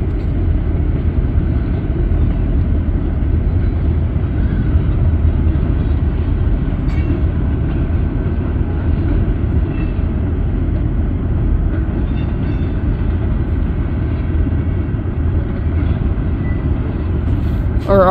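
A long freight train with distributed power locomotives rolls steadily past near Barstow and Daggett, a loud continuous rumble of wheels and cars that holds without a break for the whole stretch.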